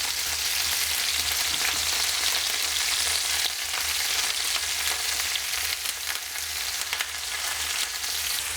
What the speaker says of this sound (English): Let all those vegetables get a little bit of colour on those onions,